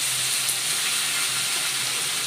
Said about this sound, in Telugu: సో నేను ముందు ఫ్రై చేసుకుంటున్నాను రొయ్యని చూసారా ఫ్రెండ్స్ ఇలా ఫ్రై చేసుకోవాలన్నమాట